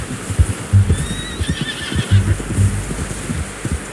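A horse neighs loudly in a drawn-out whinny in Red Dead Redemption 2, with hoof clip-clops and other low thumps underneath.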